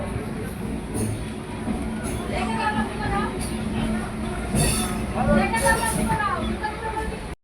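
A train rumbles and its wheels squeal as it pulls away from a station, with people talking over the steady rolling noise.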